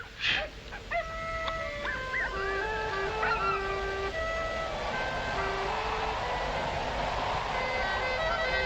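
Several dogs barking, yelping and howling at night in a 1941 film scene, a cluster of high calls and whines overlapping near and far over a steady background hiss, with no talk.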